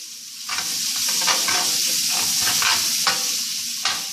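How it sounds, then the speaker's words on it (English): Kielbasa, bacon and onions fry in a pot for chuckwagon beans, a loud close hiss with rhythmic scraping stirs pulsing roughly every half second. "the kielbasa is starting to get brown, the sauce is brown, the bacon's starting to fry up. You throw your onions in there."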